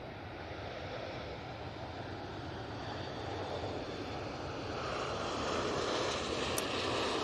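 A large Etihad airliner roars steadily at Manchester Airport during takeoff, a broad continuous jet engine rumble that holds loud throughout and swells slightly toward the end, with no talk.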